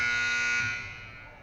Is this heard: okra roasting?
no